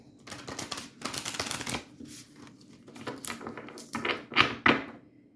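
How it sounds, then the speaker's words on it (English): Tarot cards being shuffled in quick riffling bursts, close and fairly loud, with brief pauses between rounds and a few sharper snaps near the end. "I'm going to shuffle these again like this."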